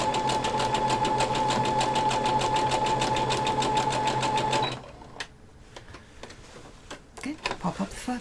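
A sewing machine runs steadily for nearly five seconds, stitching through layered dress fabric with a fast, even mechanical rhythm, then stops, leaving faint handling clicks and soft rustling of the cloth.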